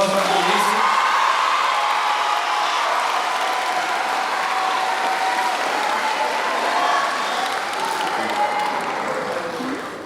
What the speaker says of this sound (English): So if you guys could give her a round of applause for her